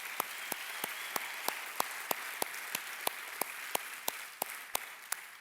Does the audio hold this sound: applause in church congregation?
yes